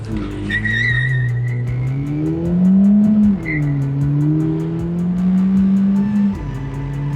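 Ford Fiesta ST180 accelerating hard, its engine note rising loud and close in sweeping pitch climbs through the gears, with a brief dip at each shift before pulling up again; no talking.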